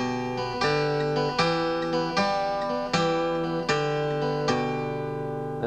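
Acoustic blues guitar playing a boogie bass pattern with a second string added in between, plucked notes ringing in a steady, slightly uneven shuffle rhythm, clear and close with no voice.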